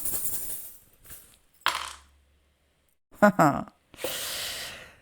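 Small metal trinkets clatter onto a hard surface in a few short bursts, separated by quiet gaps and soft rustling.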